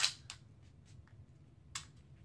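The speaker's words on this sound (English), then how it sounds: "it has one of the most positive magazine release ejections I've seen" A magazine pops out of a Smith & Wesson Bodyguard .380 pistol with a sharp metallic click, followed by a few softer clicks and a second crisp snap, close and quiet in a still room.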